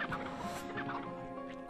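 Chickens clucking in the video game MediEvil, dense busy clucks over steady game music, loud and continuous throughout.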